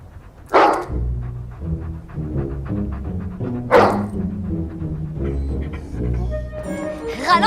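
A dog in a house barks loudly and sharply several times, with whimpers and yips between the barks.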